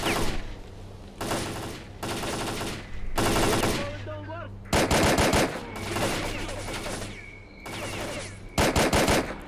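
Gunfire in the video game S.T.A.L.K.E.R. Clear Sky: loud bursts of automatic weapon fire in repeated clusters separated by short pauses, with faint game voices between bursts.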